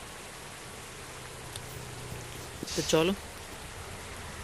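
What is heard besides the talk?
rain starting to fall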